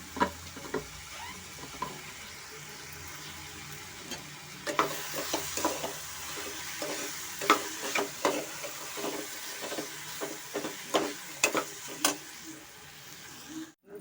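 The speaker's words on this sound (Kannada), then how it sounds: "ನಾನು ಈಗ ಗೋಧಿ ನುಚ್ಚು ಮತ್ತು ಹೆಸರು ಕಾಳನ್ನ ಸೇರಿಸ್ತಾ ಇದ್ದೀನಿ ಅದನ್ನು ಸ್ವಲ್ಪ ಚೆನ್ನಾಗಿ ನಾನು ತರಕಾರಿ ಜೊತೆ ಫ್ರೈ ಮಾಡ್ಕೊತೀನಿ" Broken wheat and moong dal frying with vegetables for khichdi, with a soft steady sizzle under frequent sharp spatula taps and scrapes against the pan.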